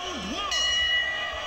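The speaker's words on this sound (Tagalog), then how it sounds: "Simulan na pag nag-bell" A boxing bell rings once to start the round, a bright metallic clang that sustains after a brief voice, with faint crowd noise behind.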